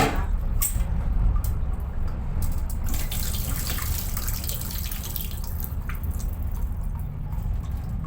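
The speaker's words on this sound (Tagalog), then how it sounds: "Naghuhugas, kailangan hugas na hugas talaga" Mung beans being washed under running tap water outdoors behind a house, a steady close splash and trickle with occasional drips and squishy handling of the wet beans.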